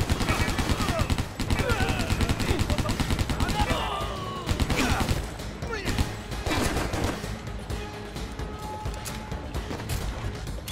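SMG and dual pistol gunfire in Stranglehold, rapid loud bursts of shots rattling in fast succession, densest at first and thinning toward the end amid crashes and game noise.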